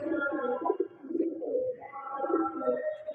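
Male Madrasi and Giribaj pigeons coo close by in a loft, overlapping throaty, rolling calls running continuously with brief dips between phrases.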